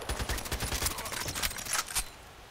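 Rapid gunfire from a sniper match in the game Old Sawmill, shots cracking in dense, overlapping bursts with loud low thumps, a continuous fusillade with no pauses.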